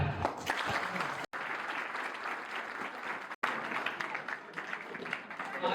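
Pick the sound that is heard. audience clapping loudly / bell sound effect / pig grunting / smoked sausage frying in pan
audience clapping loudly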